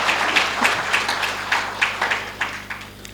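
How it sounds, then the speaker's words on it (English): Conference audience applause for a presentation, a thin spread of moderate claps over a steady room hum, with a few distinct individual claps standing out near the end. "May we give Mr. Busisa another round of applause for his presentation?"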